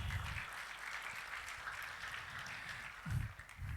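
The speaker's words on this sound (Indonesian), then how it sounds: "Sekali lagi tepuk tangan." Applause from a church youth service audience at a birthday celebration, a dense steady wash of clapping with low rumbling voices or music underneath, swelling briefly near the end.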